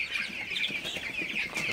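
Broiler chickens in a lit shed on a hot night, drinking water and clucking in a steady, busy chorus that stays close and fairly even throughout, with no talking.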